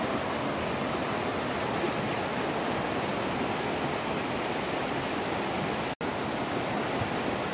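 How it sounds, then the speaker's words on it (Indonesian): The large Sungai Cikaniki river flows in a broad, steady rush of water, loud and continuous like a cascade, with no voices over it and only a brief cut near the end. "Ini sungai besar."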